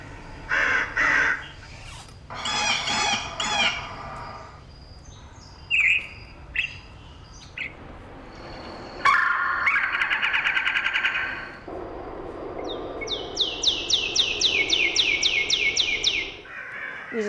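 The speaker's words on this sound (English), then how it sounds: "you get to hear the sound of the native birds" Recorded native bird calls play in bursts from an interactive zoo exhibit: harsh crow-like caws, then a long rising series of repeated whistled chirps, with short silences between.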